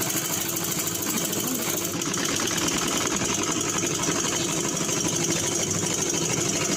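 Domestic sewing machine running a thin seam along the folded side of a fabric piece for a baby frock, a steady fast mechanical whirr and rattle holding continuously and close throughout.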